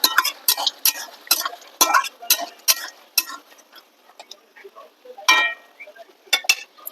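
A spoon stirs mutton curry, cooked without onion or garlic, in a metal pot, making quick rhythmic scrapes and clinks with a few brief pauses.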